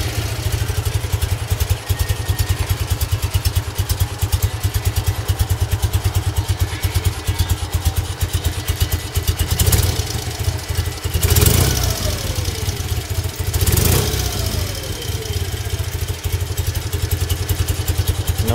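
A 1969 BMW R50 motorcycle, an American version fitted with electronic ignition and freshly adjusted carburetors, idles close by with a steady, even, rapid thump and some mechanical clatter, broken by a few short bursts of louder noise.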